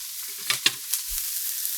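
Chopped onion with a pinch of salt sizzling in a pan over medium-high heat, a steady hiss with a few quick scraping stirs of a utensil, close and alone.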